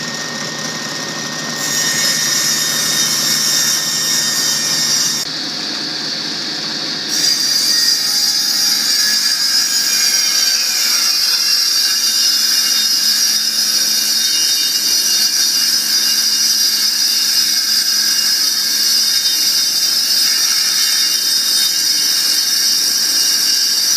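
A power saw cuts through a piece of wood, a loud, continuous high whine and rasp up close that rises in intensity as the blade bites in and holds steady throughout.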